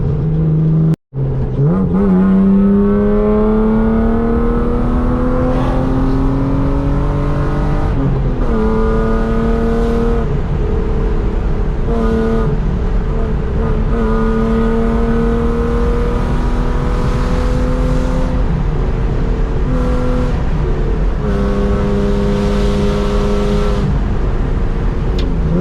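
A loud BMW E36 drives hard, its engine droning and revving through rising and falling gear pulls, with a brief cut near the start and a continuous close roar throughout.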